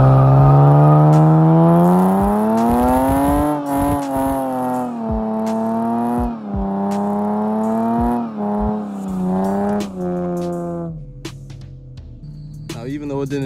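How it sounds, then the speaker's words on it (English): A 2JZ-engined Lexus GS300 on dry pavement revs hard during a burnout, its loud engine note climbing and dropping in repeated surges, then settling near the end. "whenever I do a burnout, sometimes the two rear, you know, spin its wheels together"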